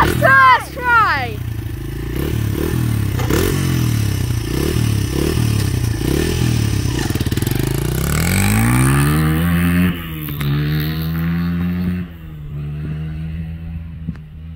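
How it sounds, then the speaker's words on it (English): A Honda CRF100F dirt bike starts and sets off on a lap, its small engine revving in repeated rising bursts, then climbing steadily as it pulls away and fading near the end, with people talking over it. "I'm going to start it and do a lap because. To show you how it rides."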